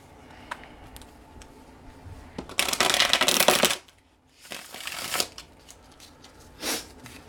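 Tarot cards being shuffled by hand: soft riffling and flicking bursts, one long close shuffle in the middle followed by a shorter one and a brief final flutter, with quiet taps and card handling between and no talking.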